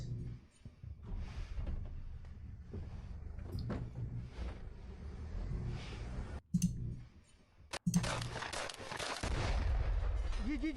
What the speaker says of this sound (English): Oh, he's using a shotgun.